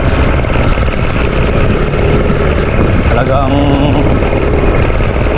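A farm engine runs steadily, loud and close, with a constant low rumble while a voice talks over it.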